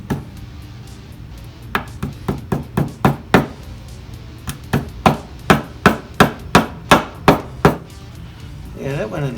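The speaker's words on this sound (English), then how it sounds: "I have a couple brass hammers here. I'm going to try the smaller one first," Small brass hammer tapping fret wire into the fretboard of a homemade electric guitar, a run of sharp, close, evenly spaced knocks in two bursts, each crisp and ringing slightly, with low room noise between.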